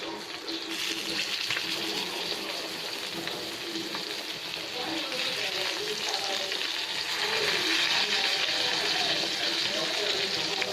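Steady close sizzle of pomfret fish pieces frying in a pan as they are flipped, a continuous crackling hiss throughout.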